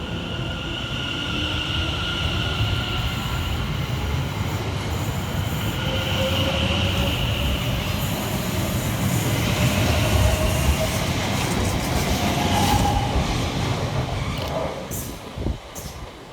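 A Class 710 London Overground electric train pulls out of a station with a steady rumble of wheels on rail, faint squeals and a rising motor whine that fades toward the end, with no talk.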